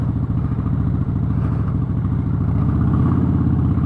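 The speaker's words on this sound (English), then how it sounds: "I have to keep the revs up, otherwise it just conks out." The engine of a Harley-Davidson Street Bob motorcycle, which has trouble stalling, runs continuously at standstill. It has a loud, steady, lumpy low throb with no clear rise or fall in revs.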